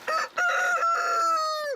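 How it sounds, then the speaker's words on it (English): A rooster crows loudly and close on a farm where chickens, ducks, guinea fowl and a turkey roam, one long strained call held for nearly two seconds before cutting off. "There's chickens, ducks, and guinea fowl."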